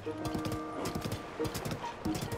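A horse gallops in the video game Zelda: Tears of the Kingdom, its hooves clip-clopping in a rapid, steady rhythm, fairly faint, with a short whinny partway through.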